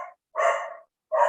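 Dogs barking nearby during an online lecture, two or three sharp, fairly loud barks separated by brief silences.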